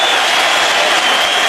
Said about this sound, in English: The crowd gives him a well-deserved ovation